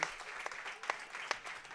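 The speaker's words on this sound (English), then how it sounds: "Clapping in the warm room for the ladies on Team Dutt." Applause in the warm room of a curling club after a U18 championship draw, a brief patter of scattered clapping from a small crowd with a few sharper claps standing out.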